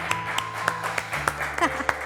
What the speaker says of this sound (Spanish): Vamos a recibir con un fuerte aplauso a Elizabeth Jiménez